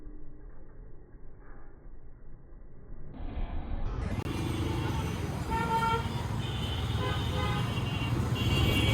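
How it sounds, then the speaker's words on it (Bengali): Busy road traffic rumbles nearby as engines idle and crawl, with car horns tooting several times in short bursts. "আজকে শহরে ভালোই জ্যাম দেখতে পাচ্ছি"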